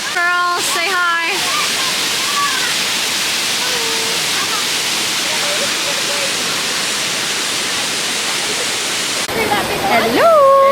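Constant rushing roar of a waterfall in the Byron Bay hinterland, steady broadband water noise throughout, with people talking over it at the start and end.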